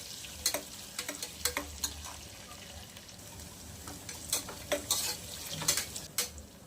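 One large chopped onion being sautéed in a pan for prawn biryani: a steady frying sizzle with intermittent close scraping and clinks from stirring.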